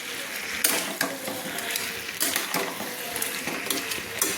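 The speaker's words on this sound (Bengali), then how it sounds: "এইভাবে লো ফ্লেমে কিন্তু রেখে আমি মাছের মাথার টুকরোগুলোকে ভালো করে আমি কিন্তু মশলা আলুর সঙ্গে মিক্সড করে নিলাম" Fish head pieces and spiced potatoes are stirred in a pan over a low flame, with a steady scraping and clinking of a utensil against the pan under a soft sizzle and no talk.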